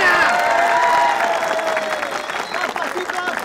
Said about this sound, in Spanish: Aplausos para aquí la amiga